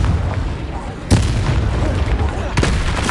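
The Confringo spell explodes in Hogwarts Legacy with two punchy blasts over a busy backdrop of game noise, and a voice is heard in between.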